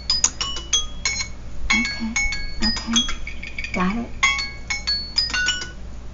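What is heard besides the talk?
alarm timer going off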